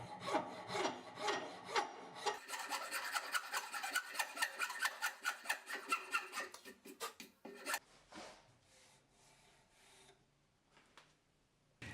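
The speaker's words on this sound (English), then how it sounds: "I'm gonna use the file to clean up the cut marks of the rasp." A hand file strokes across a wood surface to smooth away rasp marks, dense rhythmic scraping strokes close up for about eight seconds, then fading into quieter, sparse rubbing.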